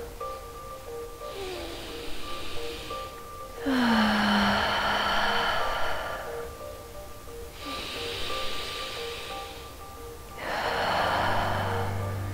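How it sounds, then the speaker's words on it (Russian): Slow yogic Ujjayi breathing during a prenatal yoga class: long audible breaths alternate, inhaling through the nose and exhaling through the mouth, about four breath cycles, close and steady with soft hiss. "вдох носом, выдох через рот, да, дыхание Уджайи"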